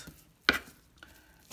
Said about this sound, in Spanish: Entonces yo lo voy a cortar así en pedacitos más pequeños